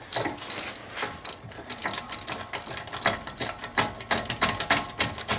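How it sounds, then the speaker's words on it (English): A wrench with a 7mm hex head tightening a brake bolt on a 1997 BMW 528i E39 during brake pad replacement, giving a rapid, close ratcheting clatter of repeated clicks in uneven bursts, with no talk over it. "I'll take my wrench, which has the 7mm hex head on it, throw it to tighten,"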